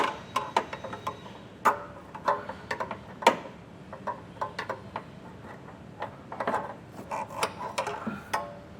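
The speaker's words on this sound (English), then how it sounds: "Now we're going to take a pry bar. We soaked our hangers with some heavy duty silicone, and we're just going to pry these off" A pry bar works rubber exhaust hangers off a 2024 Subaru Forester, giving sharp metallic clicks and taps at irregular intervals over a quiet background.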